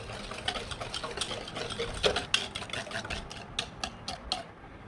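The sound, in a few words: whisking sugar mixture for eggless brownie batter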